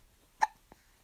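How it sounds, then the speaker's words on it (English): Two hiccups from a person, a sharp, fairly loud one followed a moment later by a softer second, with quiet around them and no talking. "Do you have the hiccups?"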